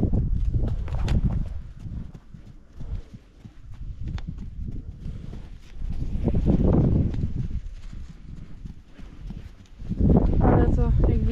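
Steady hoofbeats of a horse trotting on a lunge line at a regular rhythm, mixed with scuffing on soft ground, while someone talks over much of it.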